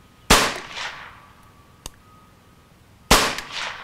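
Two sharp gunshots from a Ruger Charger .22LR pistol, each a loud crack with a short decaying ring, spaced about three seconds apart with a fainter metallic tick between them.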